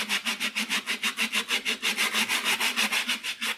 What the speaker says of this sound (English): what I like to do is kind of saw back and forth instead of this way, because that's going to wear down into your sanding block